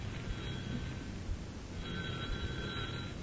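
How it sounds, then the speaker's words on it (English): Telephone ringing in an old radio comedy, a faint electric bell ring heard twice over a hissy, muffled broadcast background. "Answer the phone, Eddie"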